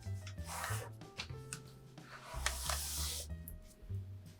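Paper creasing and rubbing while an origami clown is folded, soft crinkly scrapes and pinches coming in short bursts, close and quiet, with low background hum.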